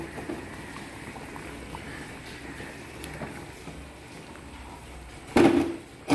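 Potato pieces go into a pot of jute leaf curry cooking with dal, after a quiet stretch of low kitchen background. A sudden clattering splash lands near the end, then another brief knock. No speech.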